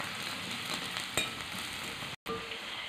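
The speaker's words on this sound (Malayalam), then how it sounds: "ഉള്ളി കരിഞ്ഞു പോവാത്ത രീതിയിൽ ലൈറ്റ് ബ്രൗൺ കളറിലാക്കി നമ്മൾ ഇതിനെ മൂപ്പിച്ചെടുക്കണം" Onions and mustard seeds fry in hot oil in a pan, giving a continuous soft crackling sizzle with one brief scrape of stirring, close but fairly quiet, then a sudden momentary cut to silence.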